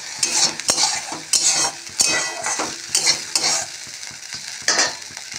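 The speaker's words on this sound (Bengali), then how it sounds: "এবারে শাক ভাজা বসিয়ে দেবো" Leafy greens (shak) fry in oil with a busy sizzle, broken by repeated loud scrapes and clatters of a spatula stirring against the pan, close and without talk.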